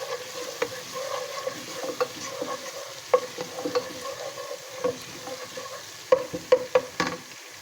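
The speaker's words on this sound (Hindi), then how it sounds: "इसको हम अच्छे से सौते करेंगे।" Chicken sautés in a pan for chicken jalfrezi, with a low, steady sizzle under frequent close clicks and scrapes of a spoon against the pan. No one speaks.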